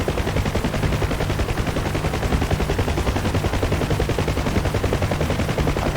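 A helicopter door gunner's machine gun fires in one continuous, loud, rapid stream of shots, steady and close, over the drone of the helicopter in a video game.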